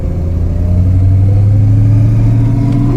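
A 1936 Plymouth Coupe's engine drones steadily from inside the car while it drives, loud and close. Its low hum rises slightly in pitch as the car pulls along, with no talk over it.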